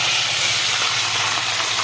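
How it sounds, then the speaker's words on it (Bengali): Leta fish frying in hot oil, a steady loud hiss and sizzle running without a break for a couple of seconds, close and with no voices. "লাটা মাছগুলো দিয়ে দিলাম বন্ধুরা এক পিট লাল লাল করে ভাজা হয়ে গেছে"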